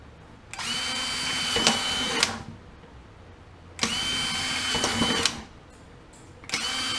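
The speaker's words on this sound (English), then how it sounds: "I'm going to drill my holes about 2 inches apart" A power drill runs in three bursts, each a high whining buzz lasting a second or two, with pauses between as it bores holes through a plastic bucket.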